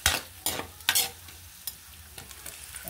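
Garlic fries in a pan and is stirred, with sharp scraping strokes in an uneven rhythm over a soft, steady sizzle, loud and close, with no talking.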